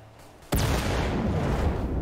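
A sudden loud explosion in the video game Wolfenstein bursts after a brief quiet moment, followed by a sustained rumbling roar that fills the rest of the clip.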